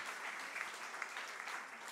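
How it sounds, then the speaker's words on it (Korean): Brief, even applause from a church congregation during an ordination and installation service, steady and somewhat distant. "우리 모든 임직자들을 위해서 우리 다시 한 번 더 격려의 박수로 박수를 쳐 주시기 바랍니다"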